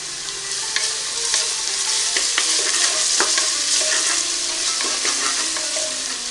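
Browned onions frying with garlic paste while being stirred in a pan, a steady close sizzle punctuated by repeated spoon scrapes and clicks.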